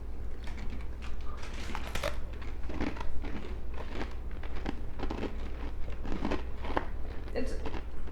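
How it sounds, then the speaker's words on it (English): Crunchy bite into a jalapeno cheddar crispy cheese snack, several close crackling crunches and chewing bursts spread across the stretch, fairly quiet against a low steady hum. "I'm gonna take a big old crunchy bite."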